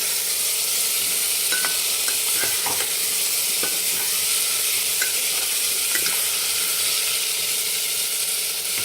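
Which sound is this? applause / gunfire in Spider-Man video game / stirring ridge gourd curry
stirring ridge gourd curry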